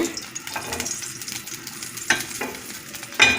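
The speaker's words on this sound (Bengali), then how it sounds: "একটু ফ্রাই প্যানে হালকা তেলে ভেজে তারপর আমি মাংসের মধ্যে আলুটা দিব।" Potato pieces fry in a little light oil in a frying pan on the stove, giving a soft, steady sizzle with a few sharper stirring scrapes and clinks near the end. No one speaks.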